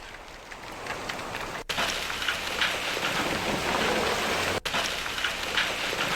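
Steady heavy rain pours down in Karnaprayag, Uttarakhand, during a spell of continuous monsoon downpour, a loud, dense, unbroken hiss interrupted only by two brief cuts.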